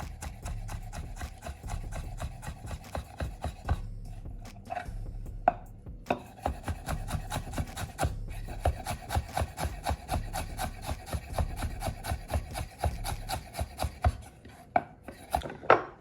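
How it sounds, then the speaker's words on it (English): Knife finely chopping ginger on a wooden board, a fast steady run of close, crisp taps lasting the whole stretch with only brief pauses, loud and up close. "So we'll try to fine chop the ginger."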